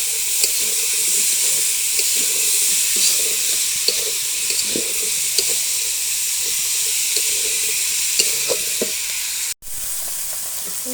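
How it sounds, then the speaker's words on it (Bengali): Vegetables for khichuri sauté in a pan with a loud, continuous sizzle and hiss, broken by light scraping stirs throughout and one brief cut near the end. "এখন আমি সবজিগুলো ভালোভাবে কষিয়ে নিই"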